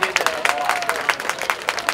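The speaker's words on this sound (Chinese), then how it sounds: "掌声欢迎郭廷佑" An audience at a Hengchun folk song contest claps for a child singer in an elementary school solo category, with steady, fairly close applause and a voice faintly underneath.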